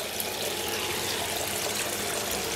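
An air pump bubbles water in a koi pond, a steady, dense rushing hiss of aeration running continuously and close up with no voices.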